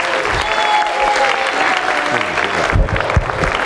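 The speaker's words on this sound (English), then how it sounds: "Give him a big hand, please." Loud, sustained audience applause for actor Robert Forster at a live talk event, dense clapping from a large crowd with a few cheers, continuous throughout.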